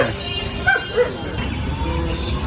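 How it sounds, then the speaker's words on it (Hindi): Several dogs bark and yip at a gathering place, with a couple of short yelps audible over a loud, busy outdoor background. "अभी देखो बहुत सारे डॉग्स हैं यहाँ पर"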